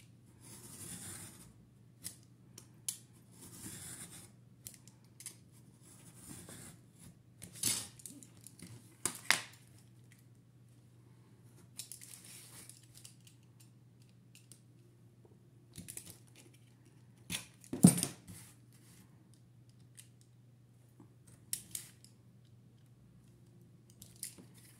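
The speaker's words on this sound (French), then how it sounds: "et je coupe sur mon trait" Scissors snipping through thin cardboard along a drawn line, a quiet scatter of small crisp cuts and rustles over a steady low hum, with a louder snip near the end.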